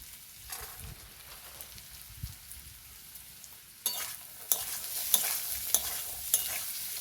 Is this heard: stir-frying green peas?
yes